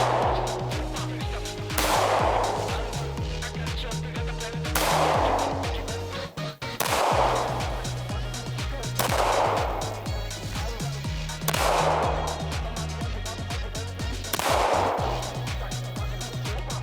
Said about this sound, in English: Shooting with this gun, I have a lot of recoil anticipation